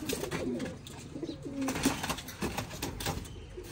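Pet pigeons in a loft cooing repeatedly, soft throaty calls overlapping from several birds nearby, steady and moderately quiet with no voices.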